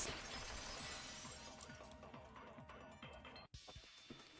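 A vase shattering in Danganronpa 2, a bright, dense burst of breaking glassy debris at the start that tapers into scattered tinkling fragments, fairly quiet overall.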